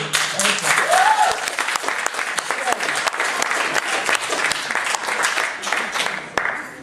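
Lecture audience applauding steadily at a talk on the Middle East, a dense wash of many hands clapping close and loud for several seconds, with a faint voice briefly showing early on.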